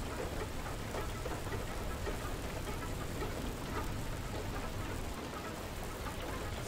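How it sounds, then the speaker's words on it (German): Hail falling steadily in the video game Far Lone Sails, a dense, even patter of hard pellets striking surfaces across the whole stretch with no talking. "Wir müssen erstmal den Hagel abwarten und alles reparieren hier."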